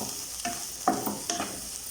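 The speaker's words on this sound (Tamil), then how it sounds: "இதெல்லாம் சேர்த்து நல்லா மிக்ஸ் பண்ணிக்கலாம்." Vegetables stirred in a frying pan for fried rice, a spatula scraping through them in three quick strokes over a soft, steady sizzle, close by with no talking.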